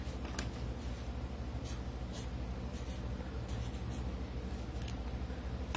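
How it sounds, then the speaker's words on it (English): Pen or marker writing by hand, a soft scratchy scribbling in short strokes, close but faint over steady background hiss. "Yes, I did just write that backwards."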